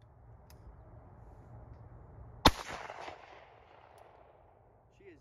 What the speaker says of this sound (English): I'm gonna take two more shots.